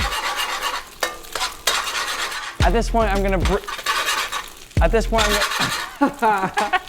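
Garlic, shallot, Chinese sausage and egg being stir-fried in a wok, with repeated scraping stirs and a background sizzle, interrupted by stretches of loud, close talking.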